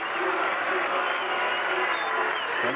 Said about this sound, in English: Some boos from the crowd